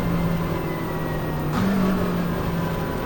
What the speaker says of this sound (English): The engine sounds and everything are just, they're really cool, really good.